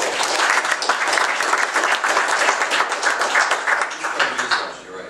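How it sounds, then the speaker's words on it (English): A seminar audience applauds steadily for about five seconds, a dense, loud wash of clapping from many hands that fades slightly at the end. "Let's give a warm round of applause to Michael again."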